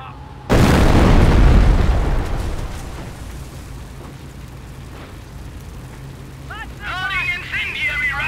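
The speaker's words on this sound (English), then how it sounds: "Loading incendiary rounds! Continue to barrage the enemy squad until they are defeated." Incendiary artillery rounds exploding in Company of Heroes: one sudden heavy boom with a long rumbling decay into a steady battlefield din, with a brief burst of chirping or whistling near the end.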